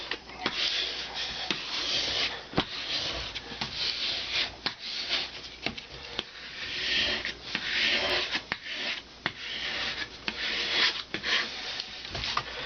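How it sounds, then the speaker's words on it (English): A veneer hammer presses veneer in repeated scraping and rubbing strokes across a wooden surface at an uneven rhythm, close and fairly quiet. "initially I want to start with the veneer hammer, getting bubbles out."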